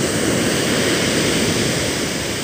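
Sea waves breaking on a shore in October, a loud continuous broadband wash of surf heard close, steady with no distinct breaks and no talking.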